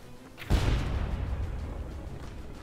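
A mortar or cannon fires once in the pirate ship game Blazing Sails, a sudden deep boom followed by a long rumbling tail that lingers for a couple of seconds.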